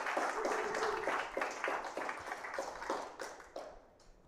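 A conference audience claps after a talk at a cloud-native tech event in a theater, a moderate burst of applause with individual claps audible that thins out toward the end.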